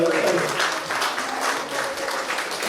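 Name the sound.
audience applause at ceilidh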